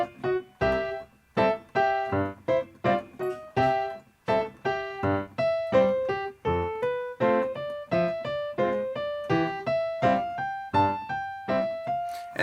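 A solo piano plays a bouncy, syncopated ragtime melody from Scott Joplin's "The Entertainer," with crisp repeated notes over a steady left-hand accompaniment, clear and close.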